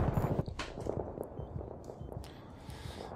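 Rapid bursts of gunfire in Battlefield 3 multiplayer, a quick cluster of close shots at the start followed by scattered, fainter reports through a busy battlefield mix.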